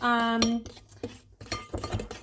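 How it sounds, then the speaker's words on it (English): A fork beats half a cup of oil with eggs in a mixing bowl for muffin batter, giving quick metallic clinks and taps against the bowl, close and fairly quiet, after a brief voice at the start. "we're going to beat. And if you're like me, a fork is what you're going to use"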